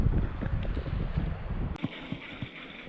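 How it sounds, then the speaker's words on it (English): Strong wind buffets the microphone at Big Creek Reservoir near Newport, Oregon, roaring in low, rumbling gusts that ease partway through, leaving lighter bursts. "Yeah, it's really windy."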